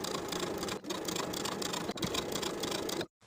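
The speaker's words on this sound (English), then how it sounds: "Then I'll edge stitch all the way around to complete the bottom hem." A sewing machine edge stitching around the bottom hem of a vintage 1960s step-in dress gives a close, steady whirring drone, broken by two brief pauses and stopping cleanly at the end.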